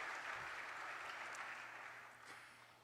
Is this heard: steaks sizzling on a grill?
no